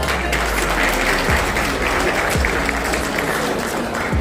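An audience at a diabetes fund raiser in Sydney applauds with steady, dense clapping throughout, a full crowd sound.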